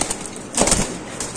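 A frightened pigeon, startled by the noise of a plane, flaps its wings in a short, close flurry of beats in the middle of otherwise quiet surroundings.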